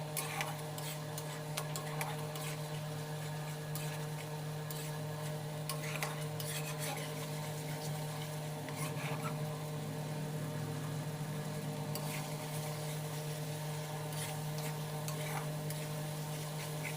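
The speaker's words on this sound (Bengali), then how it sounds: "সমস্ত উপকরণগুলো বেশ একসাথে ভালো করে কষিয়ে নিচ্ছি।" Prawn curry with potato, mustard and cashew paste is stirred over heat, a steady low sizzle with intermittent scraping ticks from the spoon, running evenly for a long stretch under a constant background hum.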